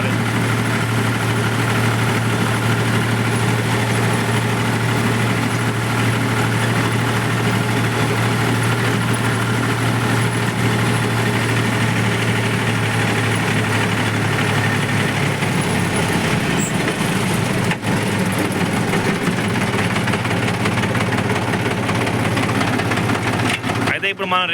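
A Mahindra 275 tractor engine runs steadily at a low, droning idle throughout, with a brief clunk near the end.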